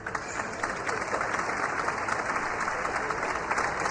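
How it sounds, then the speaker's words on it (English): Basketball fans in an Abu Dhabi arena applaud an injured player at a youth EuroLeague tournament, a steady dense wash of clapping filling the hall for the whole stretch, with faint crowd murmur beneath. "Fans here in Abu Dhabi applauding as he gets back to his feet"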